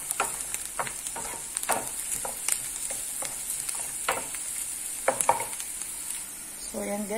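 Onions fry in a pan with a constant sizzle, and a utensil scrapes and stirs them in irregular strokes close by.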